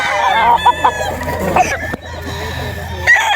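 White Kelso gamefowl rooster on a Bulacan game farm, giving several short clucks and squawks close by amid other fowl calls and background farm noise, with faint talk.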